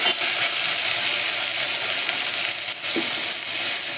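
Finely cut pieces of large tomatoes fry in a pan with a loud, steady hiss and crackle heard close by. A faint stir or knock breaks in around the middle.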